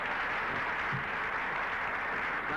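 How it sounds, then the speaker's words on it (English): An audience applauds, a dense even wash of clapping at moderate level that runs steadily through the whole short stretch with no talk over it. "that certainly deserves applause"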